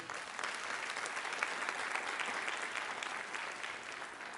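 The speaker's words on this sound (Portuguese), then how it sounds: "Pode aplaudir ao Senhor." Steady applause from a church congregation fills the space for several seconds, a dense, even wash of clapping heard fairly close with no break.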